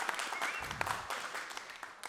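A comedy club audience claps through a stand-up comedy special, a dense, fairly loud wash of applause with a few sharper individual claps standing out, and no talking over it.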